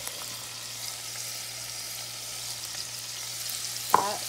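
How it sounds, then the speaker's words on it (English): Onions fry in sausage grease in a pot, a constant close sizzle that holds steady and ends with one brief clunk. "now that we've got the sausage cooked up with a little bit of grease, so we're going to toss our onions in"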